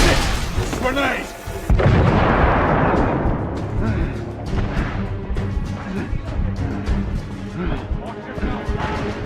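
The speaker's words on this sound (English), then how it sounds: "Grenade!" A grenade explodes in the video game The Order 1886, a heavy boom followed by rumbling debris and ongoing battle noise, with voices shouting throughout.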